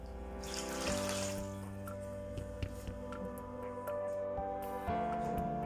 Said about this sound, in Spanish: vamos a ir agregándole el caldo de pollo, poco a poco